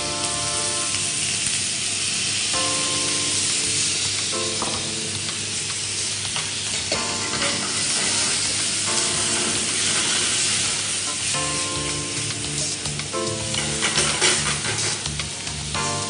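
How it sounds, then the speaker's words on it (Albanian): Onion frying in a pan and being stirred during an Albanian cooking lesson, a steady close sizzle with scraping stir strokes, under faint tonal background sounds. "Atëherë do skuqim qepën pak Iva."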